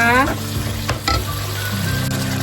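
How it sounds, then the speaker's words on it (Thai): Sweet peppers and green onions stir-fry in a hot pan with chicken and chili paste, giving a loud, close sizzle broken by a couple of quick stirring scrapes, with no talking. "ใส่ต้นหอมลงไปเลยค่ะ"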